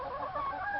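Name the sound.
chickens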